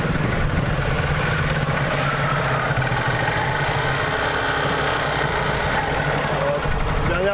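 A powerful, nervy big motorcycle held under smooth, steady throttle during drift practice, a continuous loud engine drone with no breaks and no clear revving peaks.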